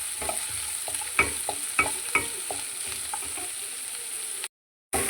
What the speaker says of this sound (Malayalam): അപ്പോൾ അത് ജസ്റ്റ് ഇളക്കി കൊടുത്തൊന്ന് വഴറ്റിയെടുക്കാം.